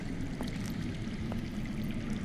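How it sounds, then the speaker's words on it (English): Underground water in a Game of Thrones video game flows in a steady, low, continuous rush, with no voices over it. "I hear water. From underground."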